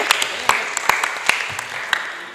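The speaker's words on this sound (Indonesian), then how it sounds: "Kasih tepuk tangan sama adik ini ya" Students at a senior high school assembly clap for a classmate, a room of scattered applause with several sharp, distinct hand claps standing out over the softer crowd clapping.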